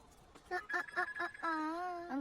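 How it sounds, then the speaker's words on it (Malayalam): A mobile phone rings with a short burst of quick melodic tones and then a longer sustained tone. It sounds fairly quiet and close by in a calm room. "നിന്റെ ഫോൺ അടിക്കുന്നുണ്ട്."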